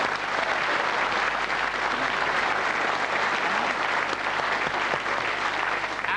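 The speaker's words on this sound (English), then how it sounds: "a big round of applause for Mark Waugh" Studio audience of a TV comedy sports quiz applauding guest cricketer Mark Waugh, dense loud clapping held steadily throughout.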